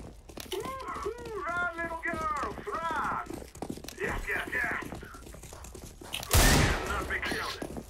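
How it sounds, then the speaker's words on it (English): Gunfire in Counter-Strike: Global Offensive, a loud burst of shots near the end following several seconds of player talk, with smaller game noises scattered underneath. "I'm gonna shoot Wang."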